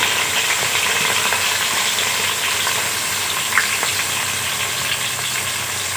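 Onions tipped into whole garam masala spices frying in a pan, giving a steady, close, broadband sizzle that holds at an even loudness throughout, with one brief clink partway through and no talking.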